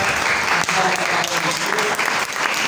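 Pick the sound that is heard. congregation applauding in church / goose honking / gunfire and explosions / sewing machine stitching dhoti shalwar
congregation applauding in church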